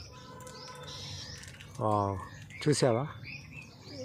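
A bird eating a guava gives short chirps and calls nearby, soft and outdoors, while a person speaks over them.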